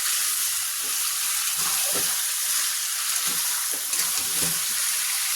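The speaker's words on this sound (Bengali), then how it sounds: "তরকারিতে আমি জল ঢেলে দিয়েছি, কত সুন্দর তেল বেরিয়েছে।" Water poured into mutton curry with red masala and rendered fat sizzles in a pot, a steady loud hiss and crackle throughout, with faint bubbling and stirring knocks underneath.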